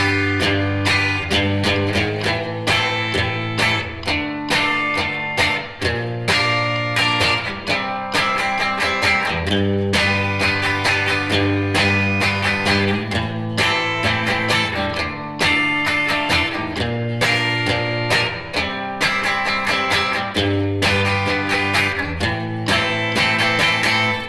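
Guitar plays the intro and first verse of a song at about 130 beats per minute, steady and driving for some twenty-four seconds over a dense full-band backing with bass and drums.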